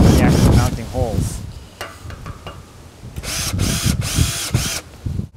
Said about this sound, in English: I'm going to use a 1/2 inch drill bit into each of these mounting holes just to create a divot